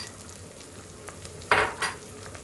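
Vegetables and tarhana mixture roasting in a pot for tarhana soup, with a faint background sizzle broken by two louder stirring scrapes near the end.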